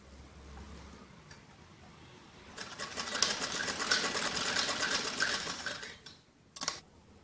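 A sewing machine runs steadily for a few seconds, stitching around all four sides of jacket frock pieces at close range, then stops briefly before a short final burst.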